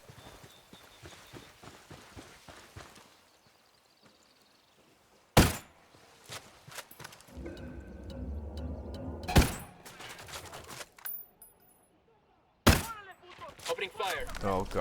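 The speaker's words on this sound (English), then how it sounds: "Opening fire." Gunfire in the Ghost Recon Wildlands video game: a few sharp, loud shots burst out at intervals between quieter stretches of game ambience and rattling, with someone talking faintly at times.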